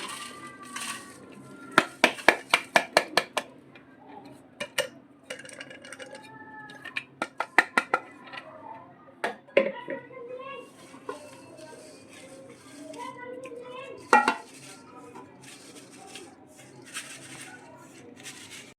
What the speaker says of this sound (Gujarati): તો હવે આપણે આ રીતે એક ચાયણી લઈ લેશું, એમાં ચારી નાખશું આપણે ભૂકાને.